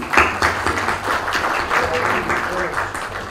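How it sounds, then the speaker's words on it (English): Audience applause at a film music launch event, a short burst of dense clapping with distinct loud claps near the front, voices murmuring beneath. "A big round of applause, ladies and gentlemen, please"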